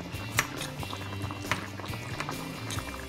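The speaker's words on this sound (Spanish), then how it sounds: "Cuando ya esto está empezando a hervir" Cream sauce for shrimp spaghetti beginning to boil in a pan, a soft steady bubbling with occasional louder pops, close and alone without talk.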